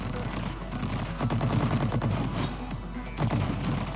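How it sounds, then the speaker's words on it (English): An airstrike in Girls' Frontline, a dense burst of rapid machine-gun fire with crackling impacts and a booming low rumble, loud and sustained for several seconds. "The airstrike didn't do that much damage that time."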